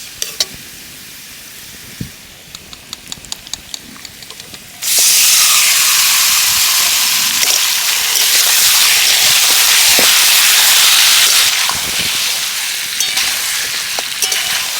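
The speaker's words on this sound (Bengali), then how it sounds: "এই দেখুন পেঁয়াজটা আমি লাল লাল করে ভেজে নিয়েছি এবার দিয়ে দেবো মাখিয়ে রাখা মাছ" Marinated river fish hits hot oil with fried onions and erupts into a loud, steady sizzle, close and continuous after a few light clinks and taps at the start.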